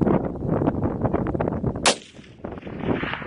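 A single sharp rifle shot cracks out loud and close during a ram hunt, following a stretch of rustling movement and noise, with a ringing tail afterward.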